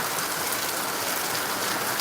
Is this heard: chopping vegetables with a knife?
no